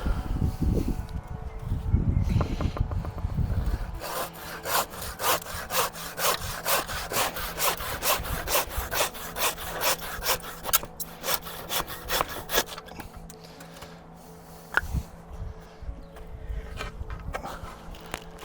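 Hand saw cutting pieces of wood to length for a budget tomato trellis, fast steady back-and-forth rasping strokes, close and continuous for most of the stretch, with some handling knocks at the start.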